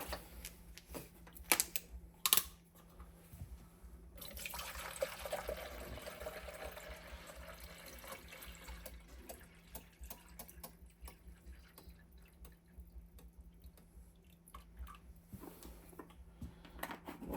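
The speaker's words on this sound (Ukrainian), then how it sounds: "і залімо водичку." Water is poured into the tank of a white Krups Infinissima KP1701 coffee machine, a trickling, splashing fill in a quiet room, faint, with a few sharp clicks around it.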